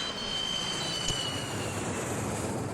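A light aircraft's engine drones steadily inside the cabin during a training flight from Kuching to Sibu in Malaysia. The roar is loud, unbroken and even from start to finish.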